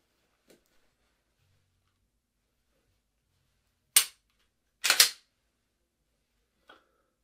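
A few sharp gunshots from a multi-target shooting drill on a range ring out in near-silence: one crack, then a quick double, with faint clicks before and after and no talking.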